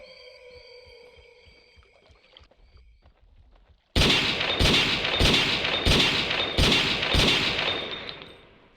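A quiet stretch of game ambience gives way to five or six loud, evenly spaced gunshots, each a sharp broadband crack with a ringing tail, fired at dinosaurs in the hunting game Carnivores, Jurassic Park Revolution mod on Isla Tyrannus.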